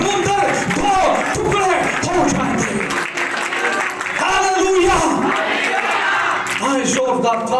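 A congregation at a church service claps and cheers loudly in a sustained burst, with shouts and voices mixed in, dipping briefly before swelling again.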